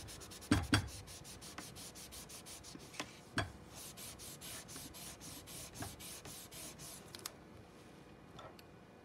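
A paintbrush loaded with orange paint is wiped against a surface to remove the excess, giving quiet rubbing swipes with a few sharper taps near the start and middle.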